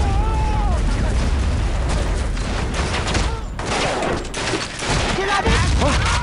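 Grenade thrown and exploding in the Vietnam War game Shellshock: Nam '67, heard within a dense battle din of booms and gunfire that stays loud and continuous throughout.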